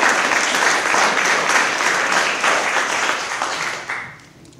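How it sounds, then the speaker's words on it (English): An audience at a city poet laureate recognition ceremony claps steadily for about four seconds, a dense, full round of applause that tapers off at the end. "I would like for you to please applaud yourself for being here."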